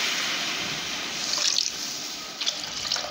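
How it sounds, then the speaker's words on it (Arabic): Water runs steadily into a pot of basmati rice, a continuous rushing pour with slight splashy swells, close by and fairly loud, no talking. "وبعدين ننزل بالميه"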